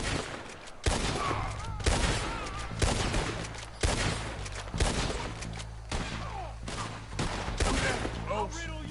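A Red Dead Redemption 2 gunfight crackles with repeated loud gunshot volleys, sharp blasts recurring about once a second over a continuous din of battle noise, with shouted voices mixed in.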